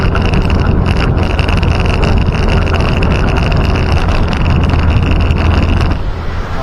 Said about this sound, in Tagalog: maririnig natin yung ingay nito in terms of vibration and tsaka yung engine noise